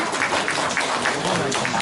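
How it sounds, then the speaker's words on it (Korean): Guests at a 2018 press conference announcing a run for Gumi mayor clap as an attendee is introduced, a dense wash of many hands filling the room at steady volume. "박수 주십시오."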